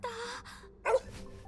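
A dog from the video game Last Defense Academy barks once, a short, bright yelp rising above a low background of game sounds, with softer earlier noises that may also be the dog.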